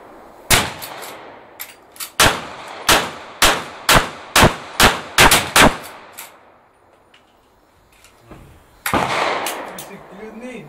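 Winchester rifle fired in a rapid string of about a dozen sharp cracks, close and loud, each with a short ringing tail, followed by a quiet pause and then a burst of noise.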